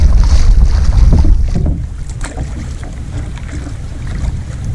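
Strong wind sweeping across Cache Bay on Saganaga Lake in the Boundary Waters wilderness, roaring steadily and buffeting the microphone, with the rush of open water beneath; loud, continuous and unbroken, with no voices.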